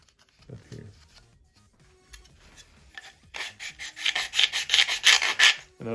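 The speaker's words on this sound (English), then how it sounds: "So you just keep sanding until it fits right." Rapid rasping strokes of sanding a plastic model-airplane cowl grow louder and steadier after a quiet, scattered start, scraping rhythmically up close.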